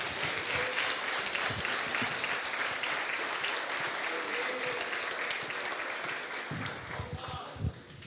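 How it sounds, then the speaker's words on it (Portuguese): A church congregation applauds in praise of the Lord, a steady, dense wash of hand clapping from many people filling the room, with voices faintly underneath and a few louder claps near the end. "as palmas louvam o nome do Senhor."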